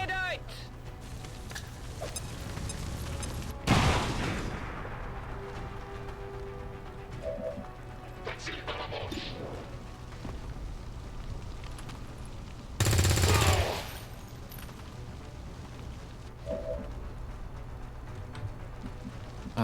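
Grenade blast and gunfire in the XCOM 2 tactical game: two loud broadband bursts a few seconds into the clip and again near the middle, over a steady game soundtrack, with smaller gunfire and effect sounds between them.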